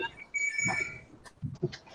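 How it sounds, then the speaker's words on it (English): A telephone rings in a room with a steady, high electronic tone, interrupted partway by brief bursts of nearby voices. "Answer the phone."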